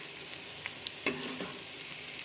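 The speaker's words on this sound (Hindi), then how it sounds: "और इनको क्रिस्प होने तक फ्राई होने देंगे।" Potato and onion pakoras frying crisp in hot oil, a steady close bubbling sizzle with a few soft knocks as pieces are turned.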